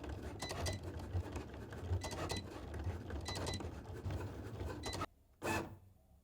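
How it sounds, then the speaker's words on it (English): Cricut Explore 3 cutting machine making a practice cut: quiet whirring carriage motion with rhythmic mechanical bursts and rubbing, then a sudden pause and one final short whir as it finishes. "I'm going to press the go button, and the machine will do our first practice cut"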